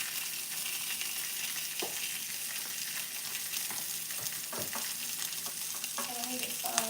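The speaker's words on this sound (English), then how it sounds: "the sausages are literally cooking right now" Sausages frying in a pan give off a steady, close sizzle and crackle with occasional sharper pops and utensil clinks, continuous throughout with no talking.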